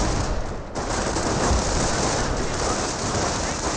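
Dense, continuous machine-gun suppressive fire from a Company of Heroes battle rattles steadily and loudly throughout, a rapid crackling barrage with no pauses.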